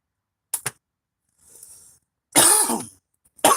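A man coughs in a jail in a video game, harsh hacking bursts separated by silence, with a short soft noise between them.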